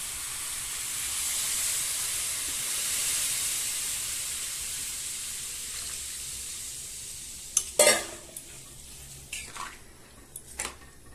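Milk goes into a pan of frying carrots for carrot halwa, a steady hiss and sizzle filling the first part before it eases, then several sharp clinks and scrapes of stirring close by.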